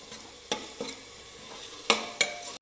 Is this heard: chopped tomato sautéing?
yes